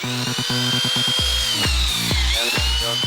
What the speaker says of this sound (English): we're using a belt sander to simulate the years of wear and tear normal jeans succumb to